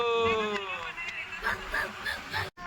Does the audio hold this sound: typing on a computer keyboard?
no